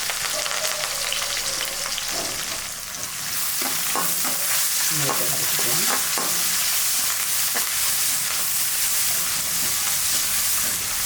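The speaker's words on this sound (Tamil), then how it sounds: "நம்ம நறுக்கி வச்சுருக்கிற வெங்காயத்தையும் போட்டுக்கலாம்" Loud, continuous sizzling of onions frying in a pan, with scraping stirring strokes in the middle and no talking.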